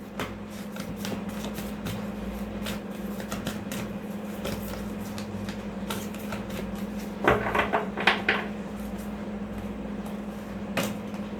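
Tarot cards spill and are gathered and shuffled by hand, a steady run of soft riffling flutters and papery slaps close by, with a louder burst of shuffling near the end over a constant low hum.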